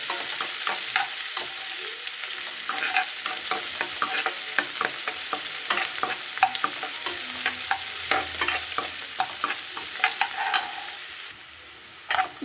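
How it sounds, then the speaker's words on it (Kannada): Chopped green chillies fry in a pan with a continuous bright sizzle, broken by frequent sharp crackles and the scrape of stirring, close and fairly loud throughout. "ಸಣ್ಣಕ್ಕೆ ಹೆಚ್ಚಿಕೊಂಡಿತ್ತಲ್ಲ ಮೆಣಸಿನ್ಕಾಯಿ ಹಾಕಿ ಒಂದು ಸ್ವಲ್ಪ ಫ್ರೈ ಮಾಡಬೇಕ್ರಿ"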